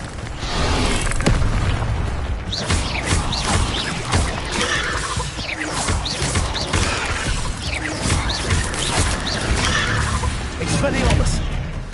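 A fire spell cast in Hogwarts Legacy erupts into a loud, sustained roaring blaze with repeated booming bursts, dense and close throughout, layered over game music and effects.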